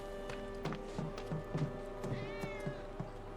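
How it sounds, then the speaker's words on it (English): Several cats in the Final Fantasy 7 Remake video game giving short repeated meows in a quiet in-game setting, with soft footstep-like taps and a faint background hum. "Hello, kitty cats."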